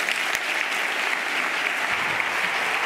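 An audience at a health conference in La Rochelle applauds a co-host taking the stage: dense, continuous hand-clapping from a large crowd, steady and fairly loud throughout.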